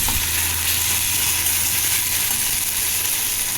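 Onion paste, chopped tomato and a green chilli frying with spices in a pan, giving a loud, continuous close sizzle that holds steady without a break, with no one speaking.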